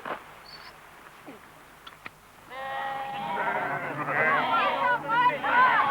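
Sheep bleat at a hurdle pen during a living-history farm demonstration, several overlapping calls rising loud and close in the second half after quieter background chatter and voices at the start.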